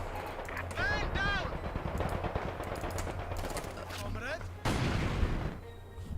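Machine gun bursts and scattered gunfire in the World War II strategy game Company of Heroes 2, rattling under overlapping in-game voice lines, with a heavier blast near the end.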